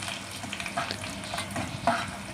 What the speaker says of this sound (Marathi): कढीपत्ता, लसणाला चांगलं फ्राय करून घ्यावा